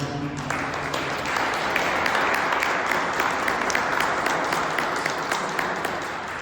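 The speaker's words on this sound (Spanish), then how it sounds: "Démosle un fuerte aplauso a nuestro Dios, mis hermanos" A Spanish-speaking church congregation claps together in a loud, sustained burst of applause during a sermon, the many hands blending into an even roar that holds for several seconds before easing slightly.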